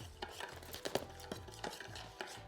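Flour and cornstarch being stirred together in a bowl, a run of soft, uneven scraping and tapping strokes, close and fairly quiet with no voices.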